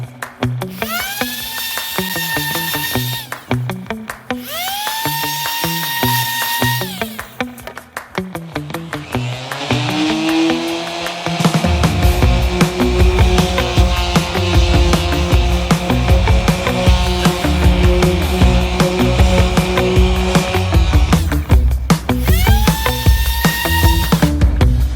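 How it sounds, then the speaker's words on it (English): Power sander working 60 grit sandpaper over fresh fiberglass ding patches on a surfboard, starting in short bursts with pauses, then running steadily and loud for the remainder with a constant whine and grinding rasp. "We're gonna go with the 60 grit. So I'm gonna sand that out now, sand out the patches"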